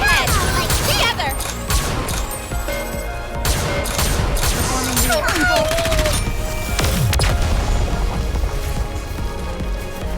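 Gunfire in the NIKKE X Stellar Blade crossover game, dense and continuous, mixed with booms, crashes and music-like tones throughout; a voice speaks over parts of it.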